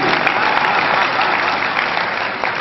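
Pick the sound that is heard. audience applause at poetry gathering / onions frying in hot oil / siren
audience applause at poetry gathering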